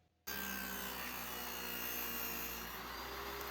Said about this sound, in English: You'll probably notice I'm only using a 1/4-inch dado stack for this cut